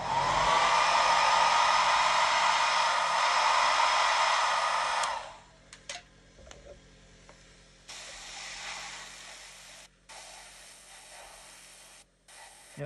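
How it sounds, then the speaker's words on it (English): A hair dryer blows hard and steady for about five seconds to dry acrylic paint on a scale model spaceship, then cuts off, leaving quieter intermittent hissing bursts from an airbrush. "Get the old hairdryer."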